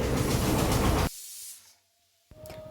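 A pressure cooker on the stove lets out a loud, close steam hiss. The hiss cuts off abruptly and fades to near silence, and then a softer hiss returns.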